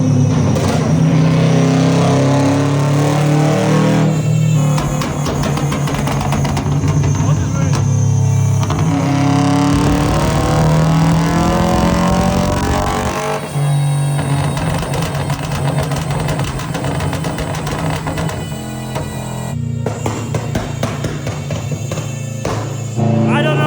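A Subaru with a loud modified exhaust revs hard and roars in repeated bursts, its engine note rising and falling with throttle, close and continuous throughout.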